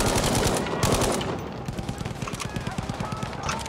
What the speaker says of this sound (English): Oh damn! I'm getting shot at from behind.